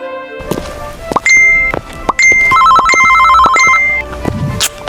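Phone ringing in Sakura School Simulator, a loud electronic ringtone playing as repeated melodic chirps with a few thunks between them and no talk over it.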